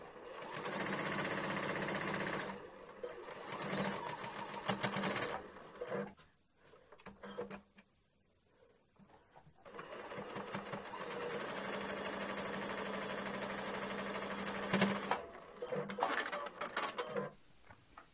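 A sewing machine stitches two rows along the folded edge of a skirt pocket, running in long steady bursts with a brief pause midway, fairly close and alone.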